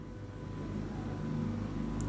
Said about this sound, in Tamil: இது ஒரிஜினல் DI இன்ஜின்.